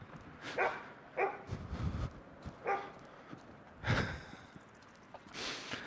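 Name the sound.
dog barking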